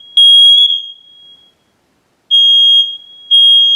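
A smoke alarm's piezo sounder shrieks during a maintenance test: three loud, piercing bursts, a long one, then two shorter ones, separated by silence.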